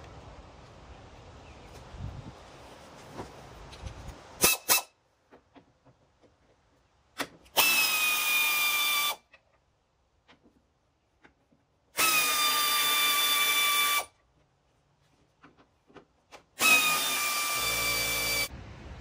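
A power tool, likely an impact driver or drill, spins bolts out of a BMW Z4 fender during a rebuild, running in three loud, steady bursts of about one and a half seconds each, separated by quiet pauses and faint clicks.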